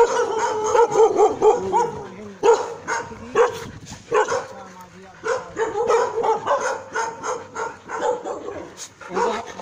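Several dogs, among them paralysed, blind and post-surgery rescue dogs, bark and yip in repeated bursts, fairly close and loud, with a whimpering, howling edge throughout.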